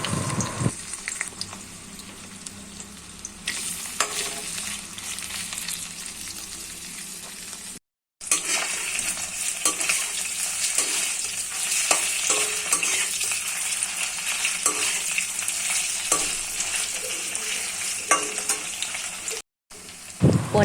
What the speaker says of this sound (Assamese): প্ৰথমতে মই পনীৰ কিপিচ ভাজি লওঁ